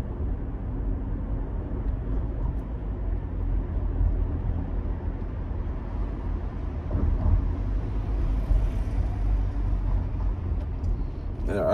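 Continuous muffled road and engine rumble from inside a Toyota Highlander SUV driving through Chicago city streets, steady low noise with slight swells, no other distinct sounds.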